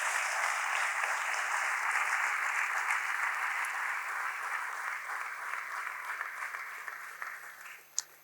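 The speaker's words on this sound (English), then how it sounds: "please give them a huge round of applause" An audience at a stock-exchange company listing ceremony gives a long, steady round of applause, a soft, dense wash of clapping heard from some distance that fades near the end, with a single sharp knock just before it stops.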